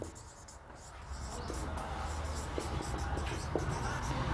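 Marker or chalk writing on a board during a chemistry lesson, scratchy strokes and short taps running steadily under a low room hum, moderately close.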